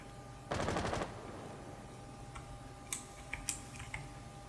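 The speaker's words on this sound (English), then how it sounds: "I heard a gunshot, but it was too late" Gunfire in Rainbow Six Siege: a fast, loud automatic burst lasting about half a second, then a few sharp, scattered cracks and clicks over a quiet background.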